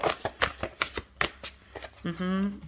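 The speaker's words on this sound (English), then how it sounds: "I am asked to shuffle and pull more cards for you" Tarot cards being shuffled close by, a series of crisp riffling snaps in an irregular rhythm, ending as a voice starts talking over the last moments.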